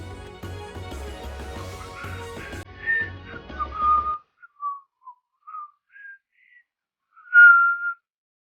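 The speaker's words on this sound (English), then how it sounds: "Excuse my horrible, whistling." A person whistles a wandering tune up close, first over background music and then alone in short, separated notes, ending on a louder held tone.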